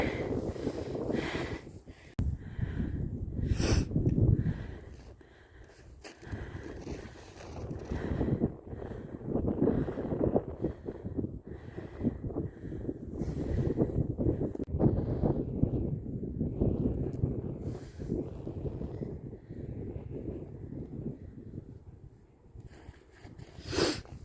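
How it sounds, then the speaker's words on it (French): Strong gusts of wind buffet the microphone on a mountain walk in Levi, Finland, roaring steadily for the whole stretch with rising and falling surges and no talking. "Bah là on sent bien le vent."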